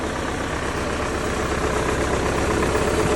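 A steady, continuous engine rumble with a low mechanical knock from an MTZ 82 tractor idling evenly and close by, no voices.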